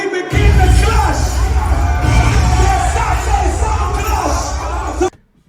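A large crowd at the Shatta Wale versus Stonebwoy sound clash yells, whoops and cheers loudly and continuously for about five seconds before cutting off abruptly.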